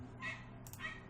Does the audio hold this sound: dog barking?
yes